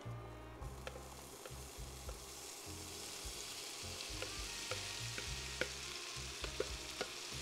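Chickpeas with taco seasoning frying in a pan, a steady, dense sizzle close up with a faint rumble underneath and occasional small pops and ticks, with no voices.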